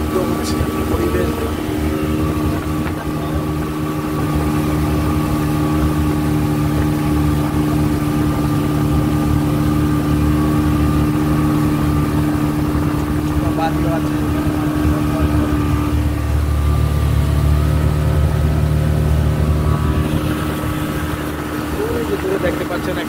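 Speedboat engine on Tanguar Haor, a steady loud drone with a constant low hum running throughout, with voices talking faintly in the background.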